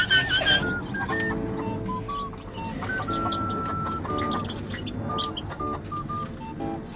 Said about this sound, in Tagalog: yung mga alaga kong manok